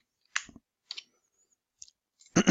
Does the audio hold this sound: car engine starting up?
no